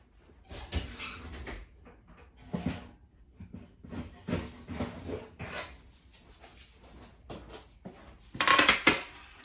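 Homemade granola on a tray being taken out of a hot oven, with clattering metal pan and oven door clunks in short irregular bursts, a louder rattling knock near the end, quiet kitchen otherwise.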